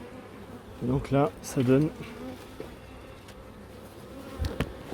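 A colony of 15,000 to 30,000 honeybees nested inside a chimney flue gives off a steady low hum beneath someone speaking briefly in French.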